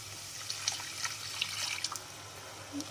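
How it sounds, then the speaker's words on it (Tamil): A cup of coconut milk is poured into a pot while cooking brinji rice, giving a faint, soft liquid trickle with scattered small splashes and drips over quiet background hum. "1 கப் தேங்காய் பால் சேர்த்துட்டேன்."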